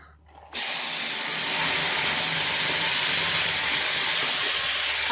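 Boiled chickpeas frying in hot oil with chilies in a home kitchen, a loud steady sizzle and hiss that bursts in abruptly and holds constant, close and alone without speech.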